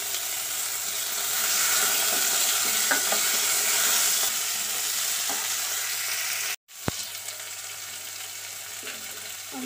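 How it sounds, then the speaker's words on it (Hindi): Chopped tomato hits a hot pan while making rasam, setting off a loud, steady sizzle with scraping stirs throughout; a brief abrupt silence cuts in before the frying hiss resumes, with no talk. "अब इसमें मैं एक कटा हुआ टमाटर ऐड कर रही हूँ।"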